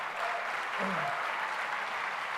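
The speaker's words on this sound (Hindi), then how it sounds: "मैं चाहता हूं एक बार उनके लिए ज़रूर तालियां बजनी चाहिए" Steady audience applause at a poetry recital, a dense wash of clapping from a crowd that holds even throughout.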